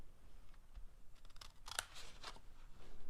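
Scissors cut through a paper template for a baseball-themed treat box, giving a quiet run of close, crisp snips in an uneven rhythm.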